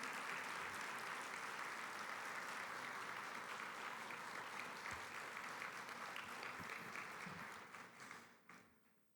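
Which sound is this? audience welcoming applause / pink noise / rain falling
audience welcoming applause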